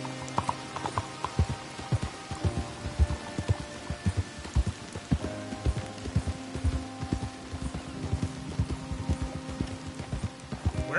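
Horse hooves clip-clop in a steady, uneven rhythm while riding in Red Dead Redemption 2 on PS5, with a soft rain-like background hiss under the hoofbeats.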